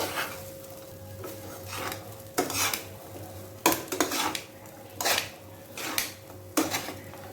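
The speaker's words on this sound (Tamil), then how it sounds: "ஸோ ரைஸை போட்டுட்டு நம்ம தேவையான அளவுக்கு கொஞ்சம் கொஞ்சமாக கிண்டி விட்டுக்க வேண்டியதுதான்." Basmati chicken fried rice stirred in a pan, with a metal utensil scraping and clanking against the pan in separate close strikes over a faint background hum.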